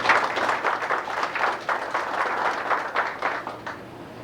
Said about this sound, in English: let's give those one round of applause